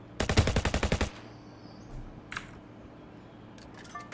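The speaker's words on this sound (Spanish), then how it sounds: "corto stream porque están disparando en el barrio" Gunfire in a neighbourhood heard from indoors, a rapid burst of about a dozen sharp cracks lasting about a second, then quiet room tone with a few faint clicks.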